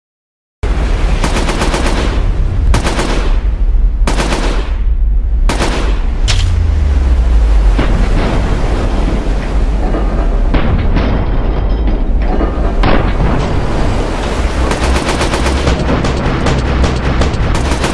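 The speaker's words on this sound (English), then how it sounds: "Firing the FAL in fully automatic can quickly cause it to be off target, lessening its effectiveness." An FAL rifle fired in fully automatic: repeated loud bursts of rapid shots, separated by brief gaps early on and then merging into near-continuous heavy gunfire with deep booming reverberation.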